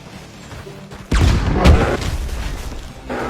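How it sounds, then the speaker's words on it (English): A dynamite blast in Red Dead Redemption 2 during a bear hunt: a sudden loud boom with a rumbling, crackling tail that lingers and fades, over faint game ambience. "Oh, he's gonna get the dynamite again."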